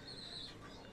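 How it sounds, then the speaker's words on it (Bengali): Racing pigeons coo softly, a single short, faint call heard alone. "ভাইয়ার রেসার পিজনগুলো অনেক সুন্দর।"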